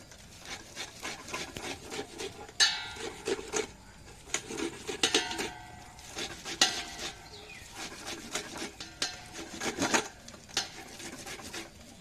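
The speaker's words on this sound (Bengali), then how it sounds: "আমি এইটার সাহায্যে তালগুলোকে ঘষে নিচ্ছি, ঘষে গোলাটা বের করে নিচ্ছি।" Ripe palm fruits rubbed by hand against a utensil to pull out the pulp, a close, quiet, irregular scraping and rasping in short bursts throughout, with occasional clinks, no talk.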